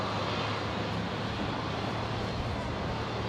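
An airliner rolls along the runway at Brisbane International Airport, a steady, loud broadband roar of jet engines and rolling wheels that stays constant throughout, with no voices.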